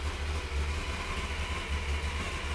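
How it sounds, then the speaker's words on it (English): A rebuilt Chevy 355 V8 with a gear-drive setup runs on an engine stand in a hot rod shop, holding a steady, loud idle with a deep rumble and a continuous mechanical whir over it, no voices. "It's got a gear drive set up in it, so you can actually hear the little wind out of the gears."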